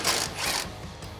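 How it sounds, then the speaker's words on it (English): A socket wrench ratchets a 10mm bolt off a Toyota Tacoma control arm bracket, giving a brief close run of rapid clicking under some mechanical noise. "grab a 10mm socket and remove this bolt"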